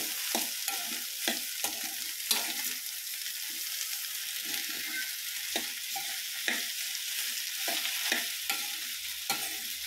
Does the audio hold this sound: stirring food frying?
yes